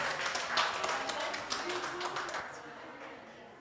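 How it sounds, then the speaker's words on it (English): Applause from an audience at a conference closing ceremony on sustainability and future technology: steady, dense clapping that thins and fades over the final second or so. "Give her a round of applause."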